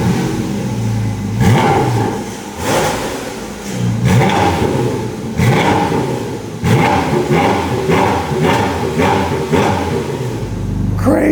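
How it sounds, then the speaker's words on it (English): A Porsche 718 Spyder RS sports car's exhaust revs loudly in a series of sharp, repeated blips with brief pauses between them, close up and mostly alone. "the best part of the rear end of this car are the exhausts"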